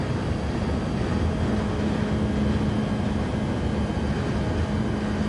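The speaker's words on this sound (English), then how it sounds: "So what I'm going to do is turn the engine noise down a bit." Car engine noise from the GR4 racing video game, a steady droning hum with a constant engine tone and road roar, continuous and even in level with no talking.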